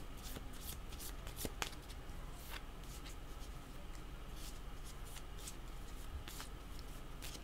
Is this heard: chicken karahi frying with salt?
no